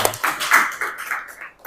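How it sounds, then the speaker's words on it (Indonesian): A classroom of students clapping together after a lesson, several short bursts of hand claps at close range that fade out, then resume briefly at the end. "tepuk tangan buat kita semua"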